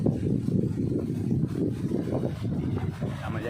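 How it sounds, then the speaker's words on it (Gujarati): A farm water pump motor runs close by with a continuous rough, low droning hum that stays steady throughout. "આમાં મોટર ચાલુ"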